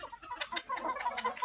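Chickens and roosters clucking in a flock of growing birds, a busy run of short overlapping clucks and calls, fairly close and steady, with no one talking.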